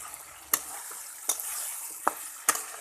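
Chickpea dal with spices and garam masala is stir-fried in a pan, a soft continuous sizzle broken by four sharp scraping clicks of a spatula against the pan, spaced irregularly.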